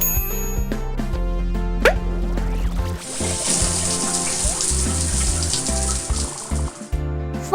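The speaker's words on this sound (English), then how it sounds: "Don't worry, I'll help you rinse off the foam." A cartoon police car gets its foam rinsed off with a spray of rushing water lasting several seconds, set over bright background music.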